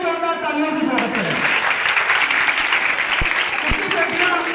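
Audience applause at a speech event encouraging daughters' education, a broad steady wash of clapping from a crowd that holds throughout, with a speaking voice over it near the start.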